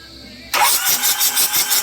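An overhauled Isuzu 4HF1 diesel engine cranks and fires up abruptly, settling into a loud, close, rhythmic pulsing clatter.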